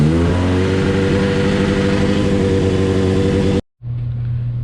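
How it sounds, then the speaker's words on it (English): A 2005 Honda CBR600RR sportbike idling after an oil change, a steady close throbbing engine hum that cuts out briefly near the end and then resumes more quietly. "we're gonna start the bike and let it run for a minute"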